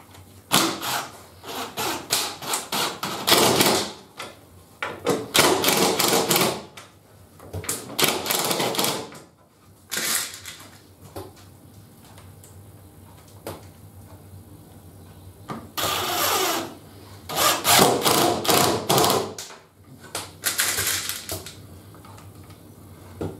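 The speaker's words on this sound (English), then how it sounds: "Now I can secure them fully with some screws." Cordless drill drives screws into plywood glides in repeated bursts, each a loud whirring run of a few seconds separated by quieter pauses, close up and with no talk.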